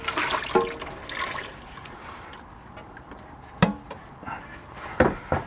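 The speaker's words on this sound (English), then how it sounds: "So you got to let this extra fluid drain here for a little while" Transmission fluid drains from the pan of a BMW E46 ZF 5HP19 automatic transmission, giving a steady liquid trickle and splashing with a few louder splats and drips, close up and alone.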